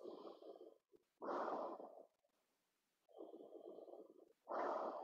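Slow, deep breathing during a yoga flow, with long audible inhales and exhales alternating in a steady rhythm, close and clear with quiet pauses between breaths.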